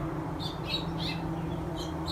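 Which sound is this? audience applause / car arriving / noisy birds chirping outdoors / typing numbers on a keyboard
noisy birds chirping outdoors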